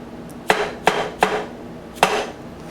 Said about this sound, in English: I'm going to start by setting the spur drive in the piece of wood, and I have a dead blow hammer